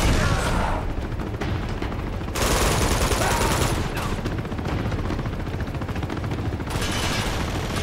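Enemy gunfire in Uncharted 2: loud, sustained automatic bursts and rapid shots, with several louder volleys cutting in over constant firing.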